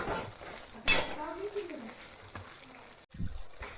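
Kaju curry masala is stirred in a pan with a spatula, giving a soft scrape and a quick clatter against the pan over a faint sizzle, with brief voice-like sounds between the strokes.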